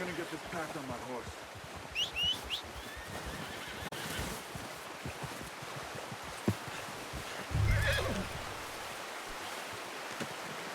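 Horse in Red Dead Redemption 2 giving a short whinny, with hoof clops and outdoor wind-like ambience around it and a low thump later; someone speaks at points.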